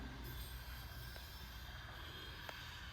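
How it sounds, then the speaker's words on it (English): Recorded railroad track sounds played back through a gallery art installation: a steady low rumble of train wagons rolling, with faint wheel squeal and two brief metallic clicks, quiet and without talk. "So sound of the railroad tracks"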